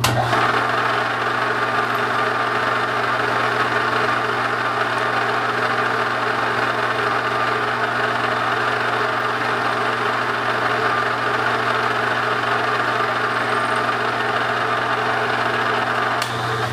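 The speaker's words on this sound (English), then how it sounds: "Let's go ahead and we'll drill this out." Bridgeport milling machine drilling out a pool ball: a steady mechanical hum with a low drone and a hiss of cutting, even and continuous the whole time, with no talk over it.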